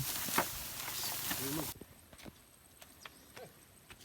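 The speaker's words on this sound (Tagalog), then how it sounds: "Paahon dito yung kalabaw." Hooves clop slowly and unevenly on the ground as a water buffalo plods uphill, with loud outdoor noise at first that then drops to a quieter scene.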